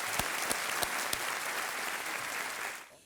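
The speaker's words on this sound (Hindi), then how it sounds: "उनको हम धन्यवाद देते हैं और ताली बजाते हैं उनके लिए" A studio audience on a quiz show claps for women who won a gold medal, a brief burst of crowd applause with a few sharp louder claps early on, tailing off at the end.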